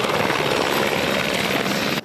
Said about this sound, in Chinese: 搜救人员对直升机跳落去海底